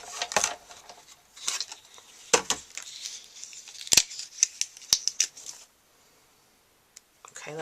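Scissors snip cardstock pieces for a Christmas pines greeting card, a run of crisp, close cuts and small rustles that stop in a short pause before a final click.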